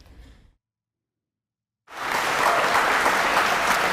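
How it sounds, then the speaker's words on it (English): After a brief burst and a second of silence, loud, dense applause from an audience at Oxford rises and continues steadily to the end. "that was a thunderous applause in comparison to Cambridge"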